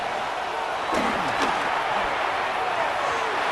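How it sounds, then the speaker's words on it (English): Football stadium crowd roaring on third down at a Vikings versus Buccaneers game, a dense, constant wall of noise with a few thumps, under a commentator's voice. "This crowd into it now as we get to third down."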